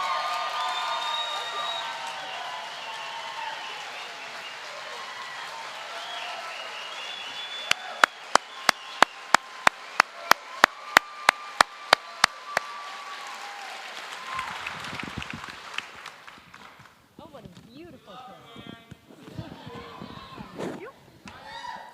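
Audience applause for a speaker at the 2014 Unite IE Conservative Conference: a dense, sustained clapping crowd with sharp, loud claps standing out midway, fading as a voice begins speaking over the hall.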